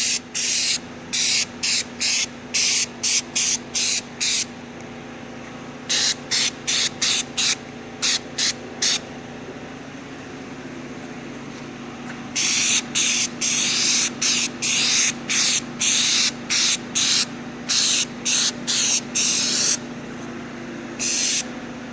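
Aerosol rock guard coating sprayed onto FishBone rear liners in bursts of hissing: several short puffs, a long pause, then a run of sustained close sprays with brief gaps, loud and without speech.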